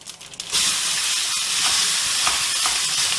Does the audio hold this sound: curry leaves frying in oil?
yes